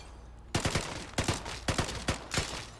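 A Thompson submachine gun fires in the game Vigor, letting off short sharp bursts of several shots each, four or five bursts in quick succession, loud and close.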